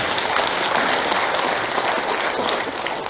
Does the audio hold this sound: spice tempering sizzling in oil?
no